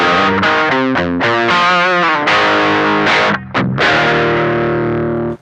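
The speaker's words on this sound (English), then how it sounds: "let's go ahead and hear how the Nectar sounds on a low tuned guitar" A low-tuned Woodwright Warlord guitar in C standard through a Beetronics Nectar fuzz and overdrive pedal: thick, saturated chords and riffs played loud and continuous, with a brief dropout near the end.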